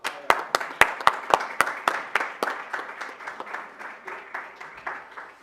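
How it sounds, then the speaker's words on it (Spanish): A university lecture audience on voting rights applauds the guest speaker. Sharp, distinct claps from a modest crowd ring out close, then thin and soften over about five seconds. "acabemos esto con este aplauso para el invitado"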